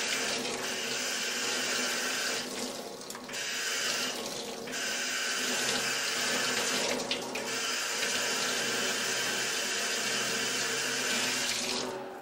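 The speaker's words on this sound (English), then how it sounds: "He's going to kind of swoop his arms up underneath the water." Hands and arms are rinsed under a running tap during a surgical scrub, a loud steady stream of water broken by short dips as the arms sweep through the flow, with no talk.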